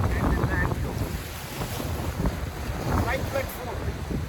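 Strong wind blows outdoors over rough rock, roaring steadily and buffeting the microphone with loud gusts, while a voice speaks faintly beneath it.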